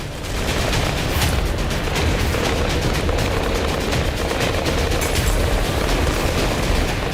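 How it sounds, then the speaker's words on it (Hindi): A rapid, dense barrage of booms and crackling blasts from air defense interceptions over Israel during Hamas attacks, continuous and loud, like explosions bursting overhead with no voices. "हवा में हो रहे ये धमाके एयर डिफेंस के प्रहार का ही असर है"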